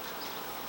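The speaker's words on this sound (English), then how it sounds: "a lot of bees in there" Honeybees buzzing at an open beehive on a cool coastal afternoon, a steady close, soft hum filling the short moment with no talk.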